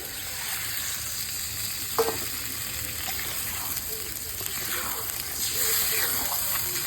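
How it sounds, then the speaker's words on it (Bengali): Fish and vegetable curry with eggplant and potato sizzles and fries in a pan as water is poured in, a steady hiss under a soft gushing layer. "এবার জলটা দিয়ে দিচ্ছি"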